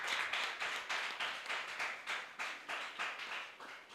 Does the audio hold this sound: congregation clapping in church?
yes